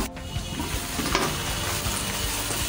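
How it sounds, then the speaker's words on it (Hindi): Minced meat keema frying in a pot over low heat, a steady close sizzle with soft stirring scrapes throughout, no voices. "चलिए देखिए भूनना शुरू हो गया है"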